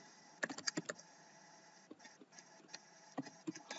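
Computer keyboard typing comes through as close, faint clicks in quick bursts with pauses between them, set against a quiet hum in a room during coding work.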